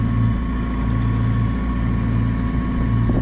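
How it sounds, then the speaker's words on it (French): A sailboat's auxiliary engine drones steadily at about five knots on the way to Porquerolles, a loud, even low hum with water and wind noise and no voices. "Un petit appui moteur pour garder les 5 nœuds"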